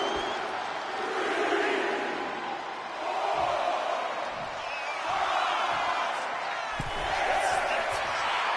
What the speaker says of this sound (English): Cargill drawing a big reaction from the crowd.